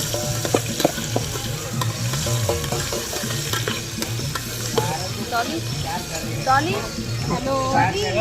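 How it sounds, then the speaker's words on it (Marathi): Onion frying in oil in a pot at a village temple fair, giving a steady sizzle with stirring scrapes under nearby voices and background music. "ताईने तेल टाकलेलं आहे इकडे याच्यामध्ये टोपामध्ये कांदा घेतलेला आहे"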